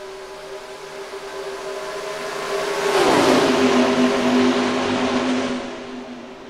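Simulated stock cars roaring at the green flag restart at Chicagoland in NASCAR Racing 2003, a steady engine drone that swells as a car passes close by, then fades back.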